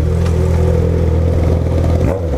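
A car engine with a cut exhaust pipe running straight through, bellowing loudly in a tunnel with a deep sustained growl, then dropping off abruptly near the end.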